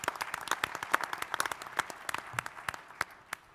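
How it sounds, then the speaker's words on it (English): An audience at a live pitch-competition final applauds sponsor Evolve IP, scattered crisp claps from a modest crowd, fairly faint, thinning out toward the end. "So a big round of applause for Evolve IP."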